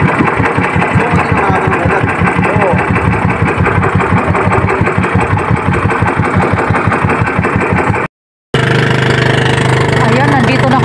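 Boat engine chugging at sea with a steady, loud, rapid knocking beat that runs nearly throughout, briefly cut off near the end before resuming.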